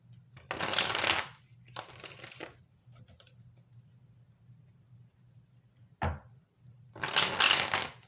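Oracle cards being shuffled in three loud riffling bursts, with a short sharp tap between them and a faint steady hum underneath.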